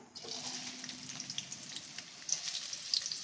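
Finely chopped medium onion frying in a generous amount of oil, a steady close crackling sizzle with dense popping throughout, no voices.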